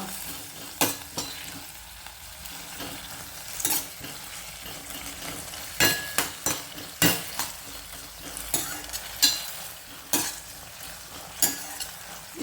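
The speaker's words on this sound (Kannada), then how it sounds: "ಇಷ್ಟಿಷ್ಟೇ ಮೊಸರು ಹಾಕೊಂಡು ಹುರಿಬೇಕು ಚೂರು ಫ್ಲೇಮ್ ದೊಡ್ಡ ಸಣ್ಣ ಮಾಡ್ಕೋತಾ" Thick curd and green chillies frying in a pan on a home stove, a continuous sizzle punctuated by repeated sharp scrapes and clinks of a spoon stirring against the metal, close and without talking.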